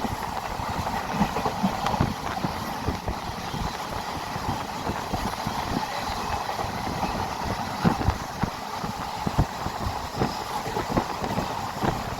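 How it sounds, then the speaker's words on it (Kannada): A long-distance passenger train on the Shirdi to Bengaluru route gets under way, a steady rumble with rhythmic wheel clatter and rattling carriage noise running continuously and fairly close, with no talk. "ಟ್ರೈನು ಸ್ಟಾರ್ಟ್ ಆಯಿತು"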